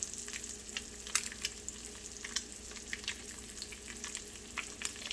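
An egg fries in a hot pan, its white crisping at the edges, giving a steady low sizzle with scattered crackles and pops throughout, close and fairly quiet.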